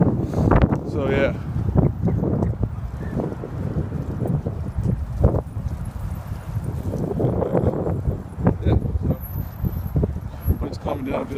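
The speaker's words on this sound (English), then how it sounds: "Wind is stronger to the fucking back" Strong, violent gusts batter the microphone outdoors while walking home, a constant low rumbling buffet that swells and surges throughout, with occasional voices mixed into the roar.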